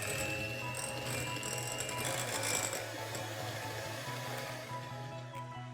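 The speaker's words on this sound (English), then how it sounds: "take 2 tablespoons of softened butter, whisk it for a minute" Softened butter being whisked for a cream cheese frosting, a steady mechanical whirring and rattling that runs continuously and fairly loud for the whole stretch, with no talking.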